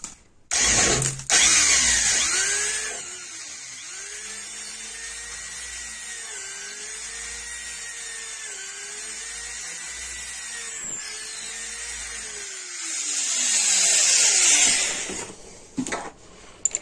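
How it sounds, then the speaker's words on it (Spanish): A drill bit bores through a cane wrapped in electrical tape, giving a steady high whine with repeated small pitch dips as it bites, louder at the start and finish, close and alone. "después de esto le pasamos con la broca"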